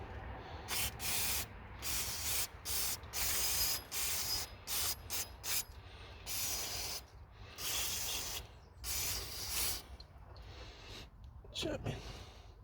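Repeated bursts of aerosol spray hissing in short and longer blasts, close by, during diesel Range Rover P38 water pump work, with pauses between, while someone talks in the background.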